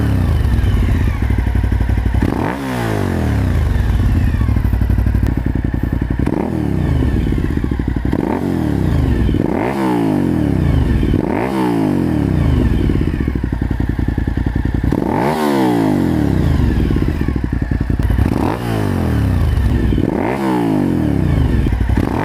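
Suzuki SV1000S V-twin fitted with a Danmoto JISU muffler, loud and close, with a steady idle broken by about seven sharp throttle blips that rise and fall in quick succession, no voices.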